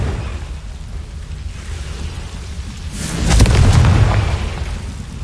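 Confringo blasting spell explosion in a Harry Potter video game, with one deep, rumbling boom that swells from a low background roar, peaks about midway and then fades, loud and with no speech over it.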